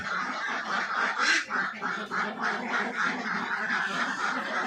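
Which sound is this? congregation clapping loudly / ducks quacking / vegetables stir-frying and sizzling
ducks quacking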